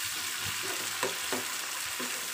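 Chicken pieces sizzle steadily in hot oil in a pan, a continuous hiss broken by a few soft clinks and scrapes of stirring, fairly quiet and close, with no voices.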